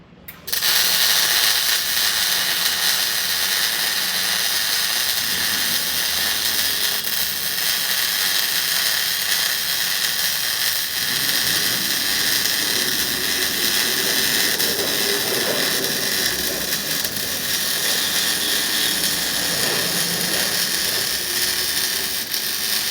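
A MIG welder set to about 18 volts and 220 wire speed lays a bead on 3/16-inch steel, giving a loud, continuous crackling hiss that holds steady for over twenty seconds with no talk.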